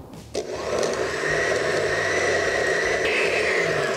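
A blender whirs steadily while blending a white sauce of herbs and chicharrón, starting abruptly after a short pause and then holding a loud, continuous motor drone throughout.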